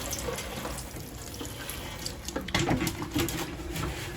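Water splashes from a watering can onto seed pots of sown Cordyline seeds, a steady close trickle and patter that grows a little louder partway through, with no voices.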